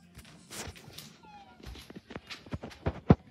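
A pet cat named Linksy meows indoors in a room, several short close meows that grow louder and sharper toward the end, with light movement noises between them.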